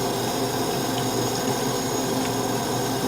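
Tap water runs steadily from a faucet for face washing, a constant broadband hiss and splash lasting the whole stretch with no pauses and no voices.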